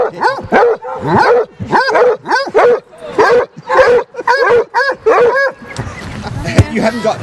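Repeated loud, close Basset Hound barks in a rapid irregular series, some yelping, with a noisier rustling stretch near the end.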